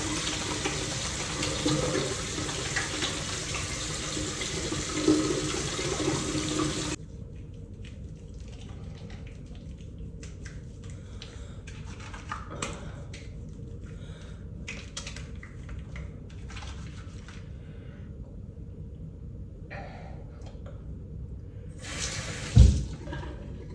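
Hot water runs from a tap into a sink, a loud steady gushing flow for the first several seconds, then a quieter trickle with faint clicks and a brief splash near the end.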